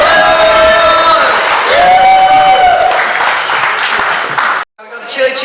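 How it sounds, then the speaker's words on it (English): Crowd noise with cheers and clapping rises at an RC drift tandem competition, a busy roar with whistle-like whoops, cutting out abruptly near the end before resuming. "Give them a round of applause."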